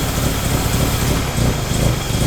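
A JDM car engine that sat unused for six years idles roughly, its loud, close, buzzing note pulsing unevenly without a break.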